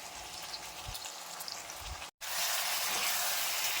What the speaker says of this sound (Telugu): ముందుగా కట్ చేసుకున్న మామిడికాయ ముక్కల్ని వేసుకుంటున్నాను.